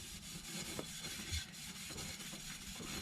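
A clean cloth dampened with brake cleaner is rubbed across a V8 engine, giving a close, steady, raspy wiping noise that runs without a break.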